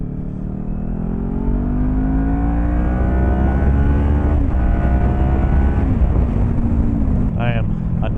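A motorcycle engine, still cold, revs on a rainy day in Melbourne, loud and close, with rising and falling engine tones sweeping up and down over about eight seconds before easing off.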